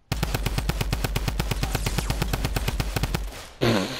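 Rapid, sustained automatic gunfire in a hunting-themed shooter video game, a dense burst of evenly spaced shots lasting several seconds at close range, ending with a brief louder crash, no talking.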